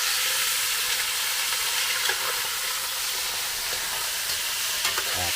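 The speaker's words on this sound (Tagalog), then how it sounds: "Lalagay yung karne at sasangkot siyahin." Meat sizzles and spits in a hot pan while being sautéed, a steady bright frying hiss with occasional scrapes of stirring, close and without voices.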